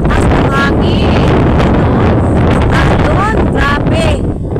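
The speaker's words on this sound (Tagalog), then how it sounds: "sobrang lakas ng hangin" Strong monsoon wind on a coast with big waves buffets the microphone with a loud, constant roar, while voices speak intermittently over it.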